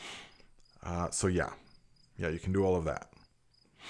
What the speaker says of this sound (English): I hear a cricket there.